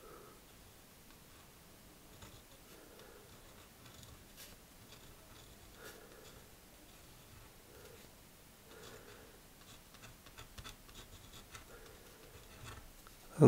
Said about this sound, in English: Then we'll draw with the Noodlers.